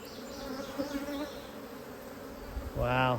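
Honey bees buzzing steadily around rescued hives, a continuous close drone with a louder, nearer bee passing at the end.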